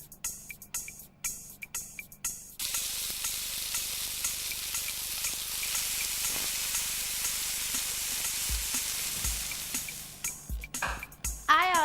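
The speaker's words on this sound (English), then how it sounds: "Put a little oil in a frying pan." Pancake batter sizzles and fries in oil in a frying pan, a loud steady hiss that starts abruptly after a few seconds of quieter kitchen clatter and fades near the end with a few knocks.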